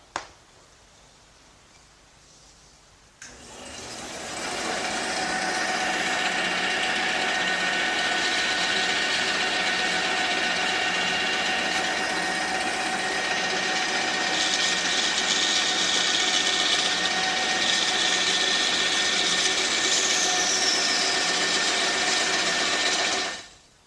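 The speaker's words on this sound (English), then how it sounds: "the first thing I'm going to do is cut these pieces on the bandsaw" A bandsaw starts up after a quiet moment and runs loud and steady, a continuous whining, rasping drone as it cuts through oak for about twenty seconds.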